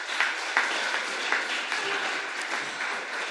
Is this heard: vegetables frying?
no